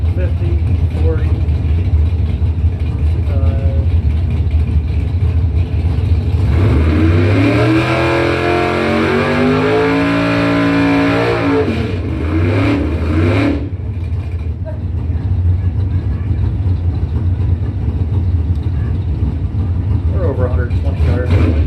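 Drag race cars roar off the line at a Pro Trophy points event, engines revving up in loud rising sweeps that swell mid-pass, then cut away into a steady crowd and engine din with announcer talk throughout.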